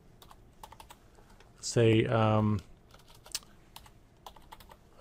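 Light, sparse clicks of typing on a computer keyboard while entering buffer distances in ArcMap GIS software, soft and close, with a short burst of a man's speech partway through.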